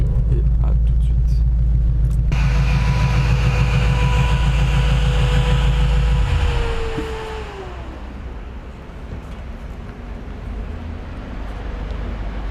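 An 825hp Sutton Mustang accelerates hard in Monaco, a loud deep roar that holds for several seconds before fading quickly into distant road ambience.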